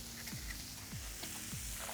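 Salami and mushrooms sizzle on a flat griddle with a steady, close frying hiss, and a few soft scraping stirs sound over it.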